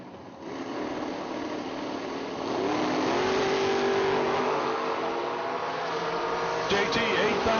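A 1979 Camaro and a 1963 Corvette drag racing side by side, a loud sustained engine roar climbing in pitch as they accelerate, heard from trackside with a crowd and a commentator's voice mixed in.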